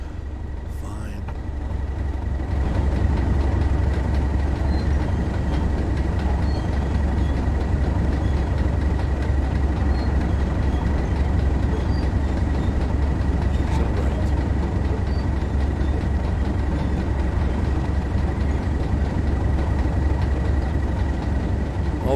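A Class 31/1 diesel locomotive on the Tees Valley Line in Train Sim World drones steadily in a low engine rumble that keeps on throughout, with a constant tone above it.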